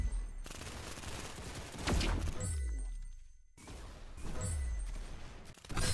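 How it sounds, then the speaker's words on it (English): Gunfire in the video game Blade Ball comes as quick bursts of shots with heavy low thumps, in two clusters split by a brief lull. "That's some beautiful shooting right there."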